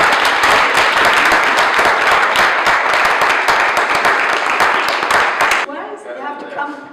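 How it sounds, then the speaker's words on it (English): Audience applause for the first prize winner at a King's College London social science showcase, a loud dense round of clapping lasting several seconds before cutting off abruptly, followed by a voice speaking. "So a round of applause for everybody"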